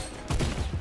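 A short burst of gunfire from a video game shooter, several rapid shots fired in a quick cluster, loud and close.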